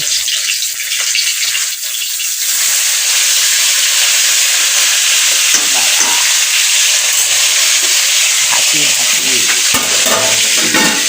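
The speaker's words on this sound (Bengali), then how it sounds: "মাছ ভাজছি মাছের ঝাল করব" Fish frying in a pan for a spicy curry, a loud continuous hissing sizzle with steam, with occasional bubbling crackles and stirring close by.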